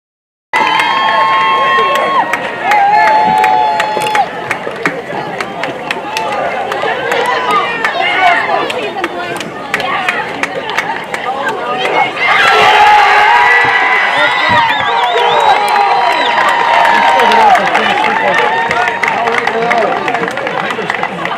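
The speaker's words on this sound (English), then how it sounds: "how about a round of applause for the Pacelli" A crowd at a high school sectional final baseball trophy presentation cheers loudly, with whoops, shouting voices and excited babble, swelling further about halfway through and staying intense and close.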